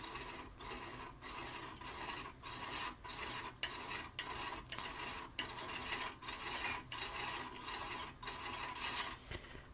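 A lathe tool scrapes against a spinning piece of wood while trying to cut threads, making a faint, continuous rasping grind with a regular rhythmic pulse from the rotation and no talk.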